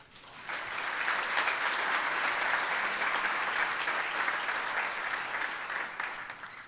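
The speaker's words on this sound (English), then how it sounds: "Will everyone join me in one more round of applause?" A crowd at a community awards ceremony for Michigan Week claps in a full, steady round of applause that swells in quickly, holds dense and even, then begins to taper near the end.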